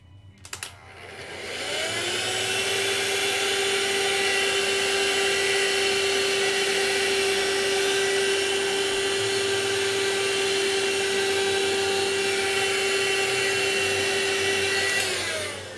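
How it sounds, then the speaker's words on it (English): A vacuum cleaner starts up and runs at a steady, loud whine for many seconds, then cuts off; no talking. "So I just need to vacuum this bit here"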